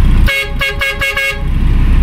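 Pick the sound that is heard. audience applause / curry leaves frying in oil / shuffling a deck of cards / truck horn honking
truck horn honking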